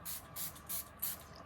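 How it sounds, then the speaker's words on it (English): Cosmic Cleanse Aura Spray comes from a pump bottle in four quick, evenly spaced hissing sprays, close and crisp, with no talk. "It's actually called Cosmic Cleanse Aura Spray."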